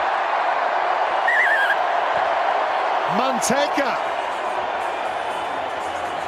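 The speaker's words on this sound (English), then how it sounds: "there's the try for Spain, and listen to the crowd" A rugby sevens stadium crowd at the 2023 London Sevens roars steadily after a Spain try against France, a broad, sustained swell of cheering under a commentator's voice.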